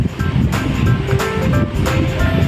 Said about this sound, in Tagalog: Ay, nalakas ng hangin.